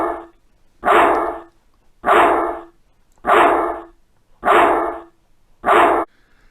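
A cartoon dog in the SENSwitcher switch-access pop-up activity barks five times, loud and close, each a short bow-wow about a second apart with silent gaps between.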